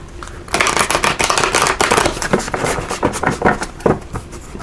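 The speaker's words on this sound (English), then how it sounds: "So let's give it one more shuffle here." Tarot cards shuffled close to the microphone in a continuous loud run of rapid riffling flicks and soft slaps that lasts several seconds.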